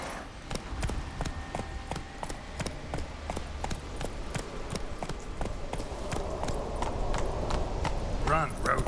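Roach, a horse in The Witcher 3, gallops in a steady run of crisp, evenly spaced hoofbeats that carry on throughout and grow slightly busier toward the end.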